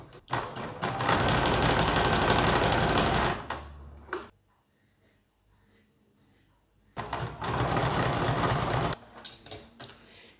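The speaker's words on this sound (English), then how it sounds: "So we'll get that sewn in place." A sewing machine runs in two long steady bursts, stitching a waistband onto pink stretch-fabric leggings, loud and close with a brief quiet pause of handling between the runs.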